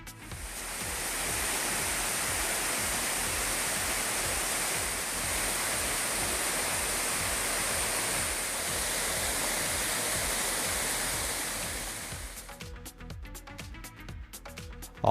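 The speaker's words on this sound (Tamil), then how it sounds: "மெயின் அருவியில் தண்ணீர் சீராக வருவதால்" Water pours steadily down the main waterfall at Courtallam, a loud, continuous broadband roar that holds unbroken for most of the span before thinning into scattered splashes near the end.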